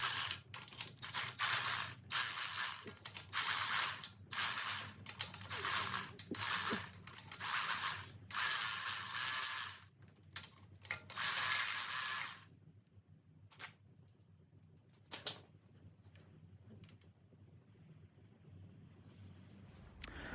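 Rapid bursts of ratcheting clicks from a ratchet wrench loosening the engine belt tensioner on a Lexus GS300, close and loud in short runs, then fading to a few sparse clicks and quiet shop ambience.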